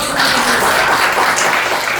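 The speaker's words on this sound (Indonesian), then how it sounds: "Kasih tepuk tangan." A crowd applauding steadily, a dense wash of clapping hands with no voices over it.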